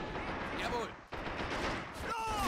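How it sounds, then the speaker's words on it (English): Heavy machine gun fire in a tactical war video game, a dense rattling burst of gunfire continuing through the clip with short whistling tones over it and a brief break near the middle. "Oh, got some heavy MG fire going on over there."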